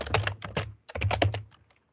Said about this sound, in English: you type in a name